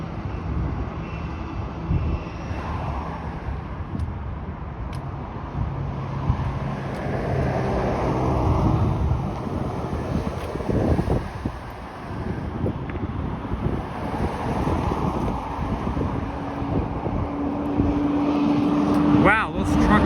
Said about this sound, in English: Wow, those trucks are very loud. Obviously it's a garbage truck